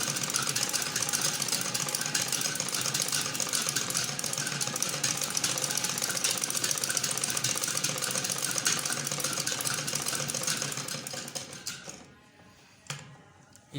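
A sewing machine stitches close to the edge of piping on a ladies' kameez, running loud and steady before stopping near the end.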